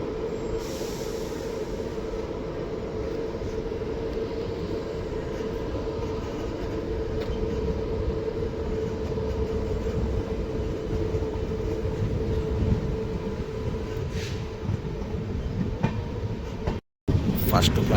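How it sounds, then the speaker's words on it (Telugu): Seven Hills Express passenger train running steadily after pulling out of a station on the Secunderabad–Tirupati route, a continuous loud rumble of wheels and carriage noise throughout, with a brief dropout near the end. "2 నిమిషాల ఆల్ట్ తర్వాత మళ్ళీ అయితే మన బండి స్టార్ట్ అయిపోయింది"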